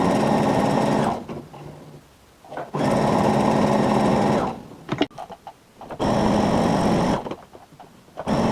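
Sewing machine stitching fabric along the presser foot edge, running in three loud bursts of steady whirring separated by pauses with faint handling clicks.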